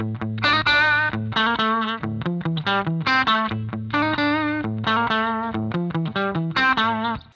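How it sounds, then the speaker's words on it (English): Heavily distorted electric guitar through a Roland Jazz Chorus amplifier's distortion feature, playing a choppy riff of short chords and single notes, loud and gritty with a buzzing saturated tone. "one more feature that this amp has, and that is the distortion feature."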